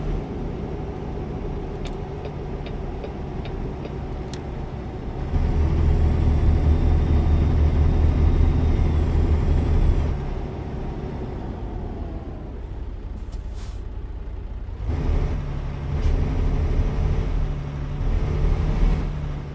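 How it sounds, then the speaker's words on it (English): A steady truck engine in the video game American Truck Simulator drones throughout, swelling louder for a few seconds mid-way before settling back to an even rumble, with a brief hiss near the end. "this truck here definitely sounds much different"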